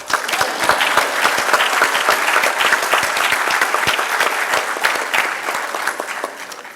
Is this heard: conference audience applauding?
yes